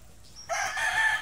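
A gamefowl broodcock rooster on a farm crows once, a loud, strained cock-a-doodle-doo that starts partway through after a quiet lead-in and rings on, close and clear, to the end.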